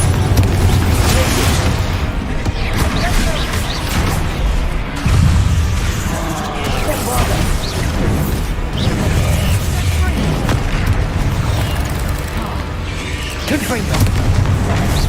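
Constant spellcasting combat in Hogwarts Legacy on hard mode, with repeated loud booms, pops and crashing bursts stacked over a thick, steady din of battle effects, and a character voice calling out spells throughout.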